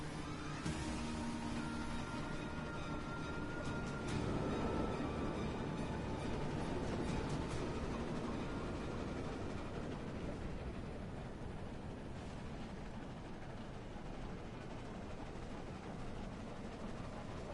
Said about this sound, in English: Choo-choo.